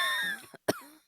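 A person coughs once, sharp and close, with a rough, raspy tone and a short pause just before it.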